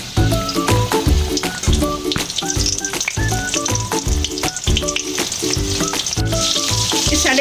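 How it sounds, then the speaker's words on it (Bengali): Small battered paneer satay skewers fry in hot oil with a steady, dense sizzle under loud rhythmic background music, with no voices. "এগুলো আমি আবার ভেজে নিচ্ছি।"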